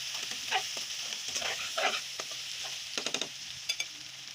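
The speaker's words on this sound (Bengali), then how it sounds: "তো 5 মিনিটের মতো সবজিগুলো কষিয়ে নিয়েছি" Vegetables including cauliflower, flat beans and potato sautéing in a pan, with a low steady sizzle and scattered spatula scrapes and taps, close and quiet, a quick run of clicks near the end.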